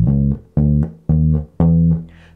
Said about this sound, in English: So it sounds like this and it uses a lot of offbeats.